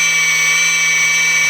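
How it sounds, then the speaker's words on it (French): A small 12-volt DC electric motor spins steadily, giving off a constant high whine with a low hum beneath it, close and unbroken throughout. "Donc je vais allumer un peu le moteur"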